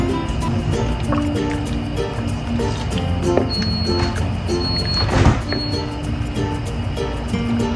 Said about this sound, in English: baste it with the boiling water